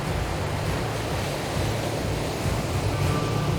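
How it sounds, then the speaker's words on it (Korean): Rough, heavy ocean surf along an Indian fishing coast, a steady broadband roar of breaking waves with gusting wind, loud and continuous with no voices. "평상시와 달리 파도가 거세 위험한 상황."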